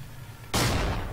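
A grenade explodes in the World War II shooter Forgotten Hope 2 on the Hurtgen Forest map. One sudden loud blast follows a quiet moment, then a rough rumbling tail fades slowly.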